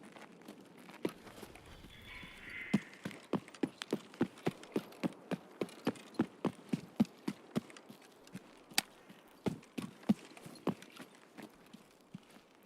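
Footsteps in the video game Escape from Tarkov, a steady run of distinct thudding steps that starts after a short pause and keeps an even pace, fairly close and clear, with no talking.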